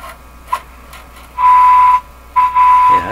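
Bursts of whistling, squealing tones and static from a General Electric KL-70 AM/shortwave radio being tuned across the 19 metre band, a steady pitched whine cutting in and out between clicks.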